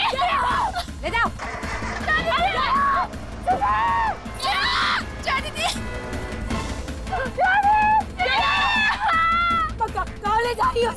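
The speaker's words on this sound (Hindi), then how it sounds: "क्यों इतना चीखम चिल्ली मचा रही हो?" A woman screams and sobs in distress in a Hindi TV drama scene, with loud, wavering high-pitched wails rising and falling in repeated bursts over a busy background of music and commotion.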